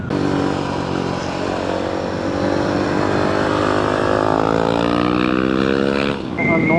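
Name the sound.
450 cc motorcycle being ridden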